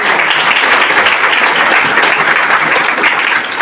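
A loud, dense burst of applause from a crowd at a network marketing seminar, steady clapping sustained throughout.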